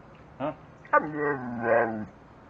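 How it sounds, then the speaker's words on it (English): A dog vocalizes a few times up close: a short yip, then a drawn-out, whining bark-howl that wavers in pitch before cutting off. "You're barking. Dogs don't bark."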